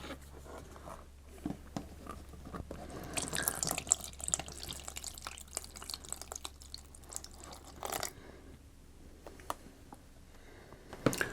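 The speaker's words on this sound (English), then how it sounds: "so we'll tip a bit of bleach in there." Bleach is tipped into a container for stripping chrome from plastic parts: a quiet, uneven trickle and splash of liquid with scattered drips and small knocks, alone and fairly faint.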